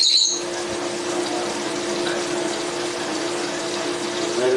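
Soapy water with a drop of dish soap runs and sloshes through a vaporizer wand tube as it is shaken, a steady gushing, bubbling rush heard alone.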